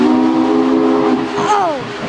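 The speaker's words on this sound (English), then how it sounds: "Sounds like the old train!" A loud, sustained steam whistle from Nickel Plate Road locomotive 765 blows close by at Horseshoe Curve, its chord bending downward near the end, with faint voices underneath.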